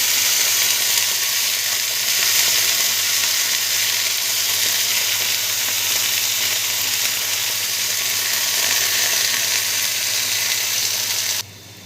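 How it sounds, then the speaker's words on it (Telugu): Fresh coriander leaves fry in a pan of hot oil with a loud, dense, unbroken sizzle close up, holding steady until it cuts off abruptly at the end. "ఇదే ఆయిల్లో కొత్తిమీర కూడా వాడుకుందాం"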